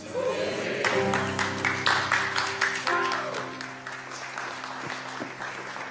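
Congregation at a Sunday church service clapping, with sustained organ or keyboard chords under the applause, which swells early and then tapers off.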